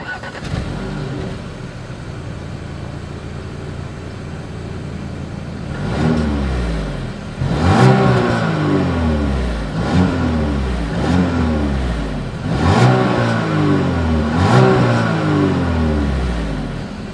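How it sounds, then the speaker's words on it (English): A 2020 Audi Q5 idles behind the car before its exhaust revs repeatedly, several throttle blips rising and falling in pitch, loud and close, without any talk. "As always, here is that exhaust clip."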